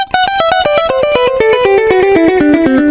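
Electric guitar picked openly through a dotted-eighth delay effect, a quick cascade of ringing notes stepping downward with echoing repeats, loud and close with no talking.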